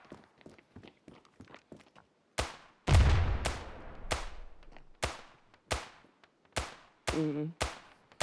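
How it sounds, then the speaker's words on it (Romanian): In the Standoff 2 shooter game, an AK-47-style rifle fires a string of loud, sharp shots, first lighter quick taps and then heavier spaced bursts, each ringing out with a short decay. "Este o armă, știi? E ca un fel de AK-47. Dar numai că ăla face buf, buf, buf."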